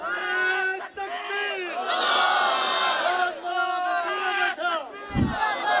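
Crowd at a political rally roars slogans in unison, a loud sustained chant of many voices rising and falling in waves, with a brief low thump near the end.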